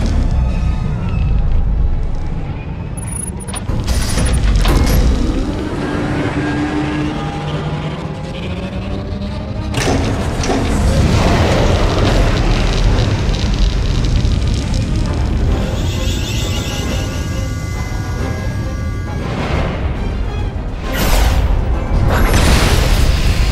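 Silencer superweapon firing on an enemy fleet in the space game SWTOR: heavy booming blasts and rumbling bursts with whooshing sweeps, loud and sustained across the scene, with sharp hits near the start, middle and end.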